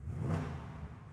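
A Mercedes SLS AMG Black Series with a dual-clutch gearbox, driven in sport mode, gives a brief, muffled, low engine drone heard from inside the car.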